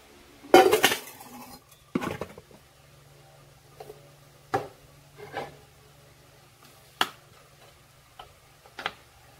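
Homemade glue, thick and ready, being spooned into a storage container: a cluster of clinks and scrapes, then a few sharp, spaced taps of a utensil against the container, close by and fairly quiet.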